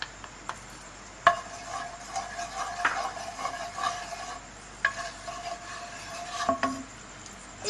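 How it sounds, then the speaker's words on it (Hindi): Ghee being added to a pan and stirred for soan papdi, heard as soft scraping and stirring with a faint sizzle and occasional sharp clinks of a utensil against the pan, close and fairly quiet, with no talking. "सबसे पहले हम घी डाल लेते हैं।"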